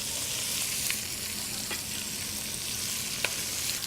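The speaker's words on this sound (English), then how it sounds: "I want to cook these vegetables down in the bacon fat until they're soft and slightly translucent." Vegetables cooking down in bacon fat over medium heat for Cajun red beans and rice, giving a steady, even sizzle and crackle with a few faint stirring clicks, heard alone throughout.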